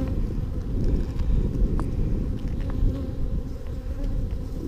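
Dense, loud, continuous buzzing of many honey bees at an open hive during a spring inspection, with light wind rumble beneath.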